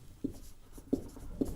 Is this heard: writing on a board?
yes